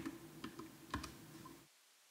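Computer keyboard typing while entering text into a spreadsheet add-on search, a few quiet scattered key clicks in the first second and a half before dropping to silence.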